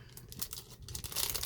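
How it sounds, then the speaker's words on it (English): Plastic wrapping crinkles and rustles up close as it is pulled off a gatefold chipboard album with 8x8 pages, in a short burst that grows louder toward the end. "Pardon the crinkling"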